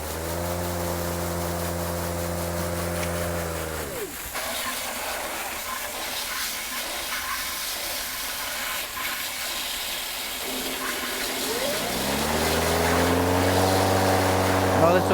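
A cordless electric lawn mower runs with a steady whirring hum that cuts off around four seconds, leaving a quieter gap, then spins back up with a rising whine near the end.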